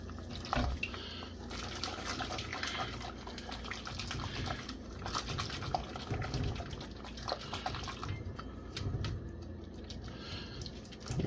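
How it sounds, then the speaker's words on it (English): Liquid is poured into a velouté sauce being whisked in a pan over lowered heat, giving a continuous soft splashing and sloshing with scraping whisk strokes, fairly quiet and with no speech. "we'll turn the heat down slightly and we'll get more liquid in there"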